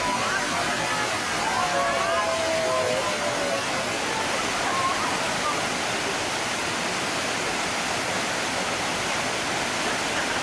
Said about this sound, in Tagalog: So ito na yung 7th waterfall.